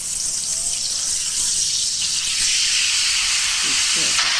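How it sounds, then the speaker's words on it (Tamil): Frying oil previously used for chicken pouring into a pan with a loud, continuous hiss, and a brief voice faintly heard near the end. "இப்ப முதல்ல கோழி பொரிச்ச எண்ணெயை ஊத்திக்கலாம்"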